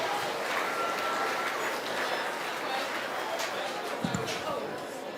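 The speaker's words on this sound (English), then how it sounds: "Give those kids a nice big round of applause." An audience at a county fair market swine judging applauds the kids showing pigs, a steady wash of clapping that holds for several seconds, with a single low thump near the end.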